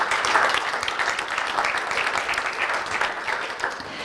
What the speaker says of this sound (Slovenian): Tudi aplavz za to.